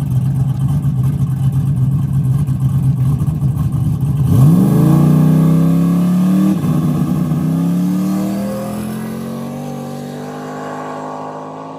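A Penwell convertible race car, built for street racing on bare asphalt, holds a loud, close engine drone, then revs up sharply in two rising pulls before easing into a steady higher roar that slowly fades.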